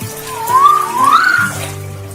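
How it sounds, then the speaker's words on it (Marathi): A Castle Rock night frog gives a whistling call, a rising then wavering whistle heard twice in close succession over a steady background hum, moderately loud and with no voices. "मादीला आकर्षित करण्यासाठी नर शिट्टीसारखा आवाज काढतो."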